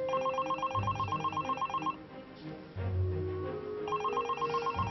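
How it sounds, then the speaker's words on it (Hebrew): A telephone bell rings in an office in repeated bursts of bright, regular trilling tones. The rings pause briefly midway and then resume, loud and close, with no talk over them. "את שומעת את הטלפון?"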